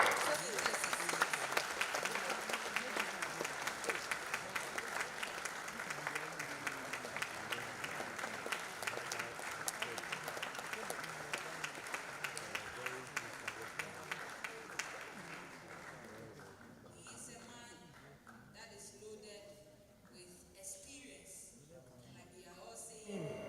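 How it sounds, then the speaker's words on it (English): Audience at a College of Engineering public lecture applauds with sustained, dense clapping that gradually thins and fades, with a brief voice near the end. "Keep clapping."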